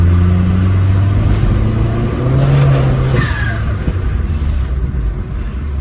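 A Vauxhall Corsa's engine revs near and loud, with steady low mechanical drone rising in pitch mid-way and voices faintly audible beneath.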